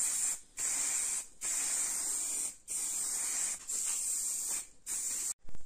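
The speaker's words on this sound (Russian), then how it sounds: "Сейчас нанесу грунт в 2 слоя." Primer sprays from an aerosol can in about six loud, close hissing bursts, each lasting roughly a second and separated by short silent breaks.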